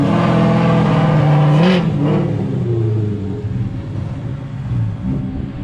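A race car powered by a junkyard Ford Coyote engine revs hard nearby, a loud rising roar that peaks and then settles into a rough, rumbling idle.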